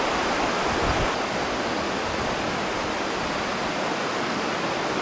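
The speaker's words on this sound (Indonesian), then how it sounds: "Dan ini kesininya adalah sungai" River flowing in rugged terrain, a steady broadband rushing roar of water that holds unbroken throughout, with no voices.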